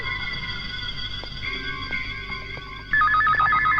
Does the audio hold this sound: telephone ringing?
yes